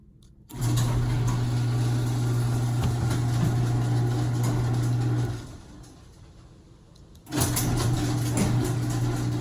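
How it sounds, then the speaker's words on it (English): A garage door opener motor drones steadily for several seconds, stops briefly into a quieter lull, then starts running again, a constant mechanical hum heard alone. "garage door opens and closes"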